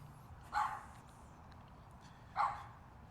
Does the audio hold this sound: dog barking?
yes